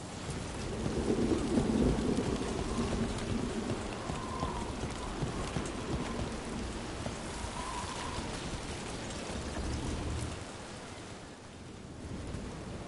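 In the video game Dragon Age: The Veilguard, steady rain falls under rumbling thunder that swells early and keeps rolling low for most of the stretch before easing off, with no speech.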